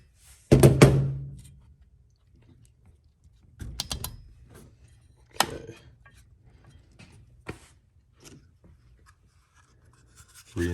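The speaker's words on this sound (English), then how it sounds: "reinstall air cleaner" A plastic air cleaner cover is refitted on a Husqvarna 455 Rancher chainsaw during a tune-up, giving scattered sharp clicks and hollow thunks separated by quiet pauses, heard up close.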